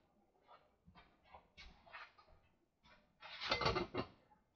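A lid clatters onto a pot of homemade apple butter, with a few light metallic knocks followed by one louder, closer clank near the end.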